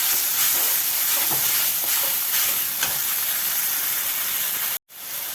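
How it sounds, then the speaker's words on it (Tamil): Ground tomato is poured onto sautéed onions in a hot pan, raising a loud, steady steamy hiss with faint crackles that runs close and continuous until it cuts out abruptly near the end. "இந்த நேரத்தில் அரைச்ச தக்காளியை ஊற்றி விடுறோம்."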